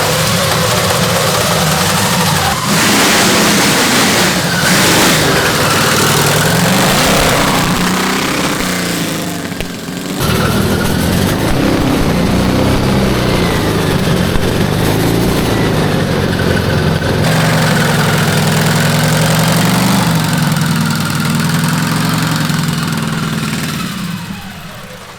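A custom-built V8 made from eight small engines roars on a go kart, loud and close, running rough and uneven for about 25 seconds with a brief dip near the middle, and no talk.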